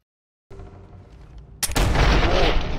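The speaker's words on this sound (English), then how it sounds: "shotguns in this mod pack are genuinely busted" A shotgun in a modded Fallout 4 game goes off as one sharp, loud blast, followed by a dense, roaring burst of continuous gunfire and explosive noise.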